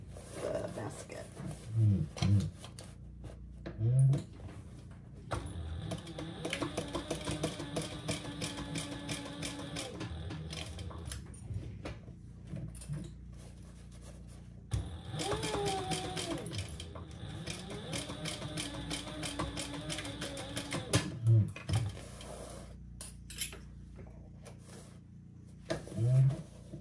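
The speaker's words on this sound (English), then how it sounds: "we'll do a top stitch on the bag, the basket" Sewing machine top-stitching a fabric basket, a steady mechanical whir running in long stretches with brief pauses, while a voice talks intermittently over it.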